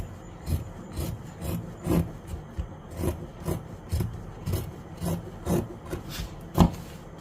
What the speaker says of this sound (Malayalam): അത് കഴിഞ്ഞ് വന്നാൽ നമുക്കിതിങ്ങനെ കട്ട് ചെയ്യാം.